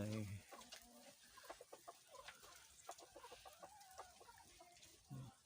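Laying hens clucking in a farm coop at a garden home in Sakon Nakhon, Thailand, a steady cluster of soft overlapping clucks at moderate distance, with someone speaking over them.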